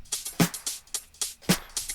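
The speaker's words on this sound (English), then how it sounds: "Then we have some shakers." Shakers in a funk drum beat, a steady rhythmic pattern of crisp, airy bursts with brief low thumps underneath, loud and close, with no talking.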